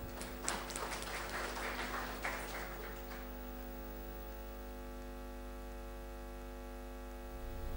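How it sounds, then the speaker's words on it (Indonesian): Audience applause at the launch of a Constitutional Court of Indonesia book: a burst of clapping that fades out after about three seconds, leaving a steady electrical hum. "Kita berikan aplaus."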